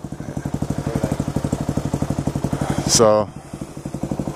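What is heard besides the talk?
motorcycle engine being started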